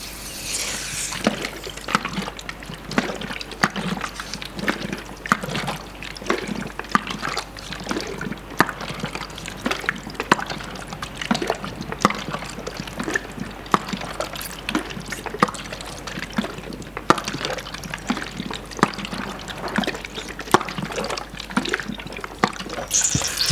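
Stop bath liquid poured and sloshing during black-and-white film development, a steady trickling, splashing stream of chemical running continuously at close range with no talk.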